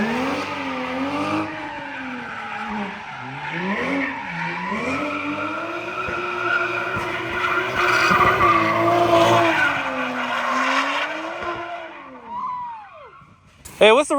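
A Toyota Supra with a DCT gearbox skids with rising and falling engine revs and squealing tires, then slams into a tree with a sharp impact near the end, while voices talk in the background.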